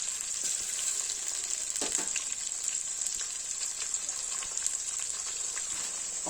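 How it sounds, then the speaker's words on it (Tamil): Onions and tomatoes sautéing in a pan for a village-style fish curry give a steady, close sizzle and frying hiss throughout, with a few faint stirring clinks and no talk. "வெங்காயம் நல்லா வதங்கிருச்சு தக்காளி வச்சு சேர்த்துக்குவோம்"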